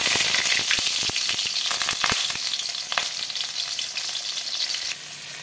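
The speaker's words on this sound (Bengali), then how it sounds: "পটলগুলো আমি ভেজে নেব।" Pointed gourd pieces frying in hot mustard oil in a pan on a gas stove, a steady dense sizzle and crackle with scattered sharp pops, close and continuous.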